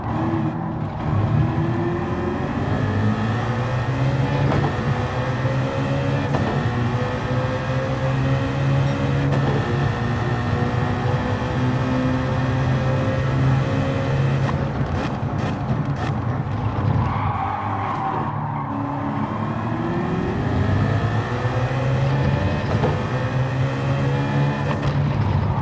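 Car engine in Gran Turismo 7 on a fast lap after warming the tires: a continuous loud engine drone rising and falling steadily through gear changes and corners, with no speech.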